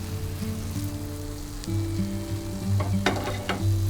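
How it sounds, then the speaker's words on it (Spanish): Grated loche squash sautéing in a pan makes a moderate sizzle under a low steady hum, with a few sharp utensil clicks toward the end. "Sofreímos por 5 minutos finales hasta que esté bien integrado"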